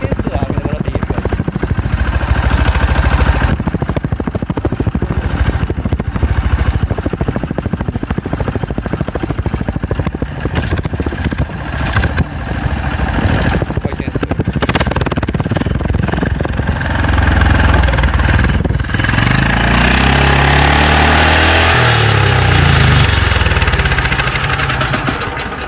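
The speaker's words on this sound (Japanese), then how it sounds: "回転数上げてもらっていいですか？" Engine of an underpowered self-propelled farm machine revving up, a loud mid-pitched mechanical drone with knocking texture that rises and surges near the end, with people talking over it.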